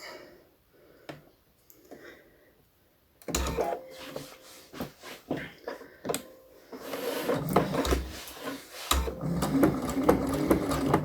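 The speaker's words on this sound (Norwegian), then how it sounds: "Så jeg skal sy rett ned der, stoppe, og så skal jeg sy opp igjen." A sewing machine stitching a straight seam at 2.5 mm stitch length: quiet handling at first, then the motor whirs and chatters in close, rhythmic bursts that stop briefly and start again.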